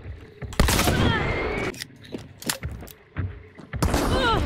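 Gunfire in a first-person shooter game: several sharp broadband shots in quick bursts, loud and close, separated by short gaps, with a final burst near the end.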